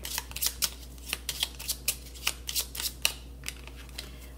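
Tarot cards are shuffled close by, a rapid run of soft riffling flicks and taps repeating unevenly, alone and fairly quiet.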